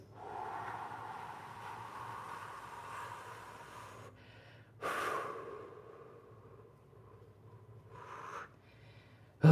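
A deep, slow exhale while folding forward into a stretch, a long close breathy rush that fades out, followed by a few shorter sharp breaths and sniffs.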